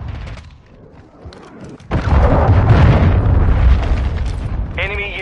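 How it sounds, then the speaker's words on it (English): A cruise missile in a video game strikes and sets off a loud, close explosion. A sudden heavy boom gives way to a long rumbling roar, and brief voice chatter comes at the end. "Hostile cruise missile launched."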